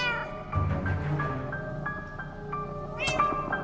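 A cat meows repeatedly in Minecraft Story Mode, with several drawn-out, tonal calls over game music, close and fairly loud, ending on a higher, sharper cry.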